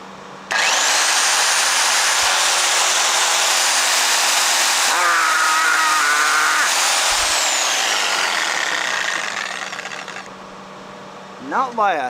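A Sawzall reciprocating saw powered by an OUPES Mega 5 power station starts up and runs with a loud, steady buzzing whine for about ten seconds, shifting pitch midway, then winds down as a voice begins.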